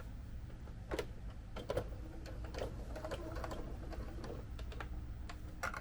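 A sewing machine stitches a Team Aqua bandana from a Pokémon cosplay, with faint, short mechanical runs and taps over a steady low hum in a quiet room.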